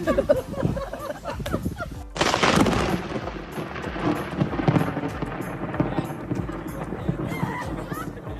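A sharp, loud crack of thunder bursts out over a steady wash of rain and storm noise, then rumbles and fades.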